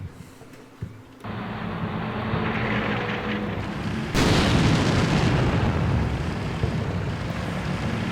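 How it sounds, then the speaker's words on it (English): Enemy artillery barrage in the war game Combat Mission Black Sea: a low rumbling of distant shelling that swells into a dense, loud roar of blasts, continuous throughout with no voices. "Enemy barrage."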